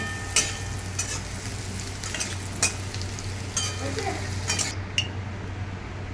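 Potatoes frying in oil with a pinch of turmeric and salt give a steady, close sizzle, with several sharp scraping stirs of a spatula and light pan clinks scattered through it.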